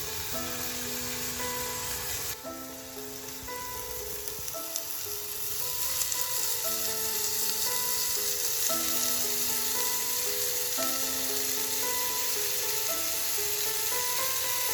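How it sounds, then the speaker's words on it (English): Paneer cubes sizzle in a pan brushed with mustard oil for smoky paneer tikka, a steady close frying hiss that runs the whole time, with soft music tones playing over it. "I'll brush my pan with this mustard oil itself. Now it's time to add our paneer."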